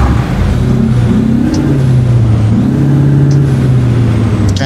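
A heavy truck engine in American Truck Simulator cranks and settles into a loud, steady diesel idle, with low rumbling tones that rise and fall slightly as it runs, heard alone and close.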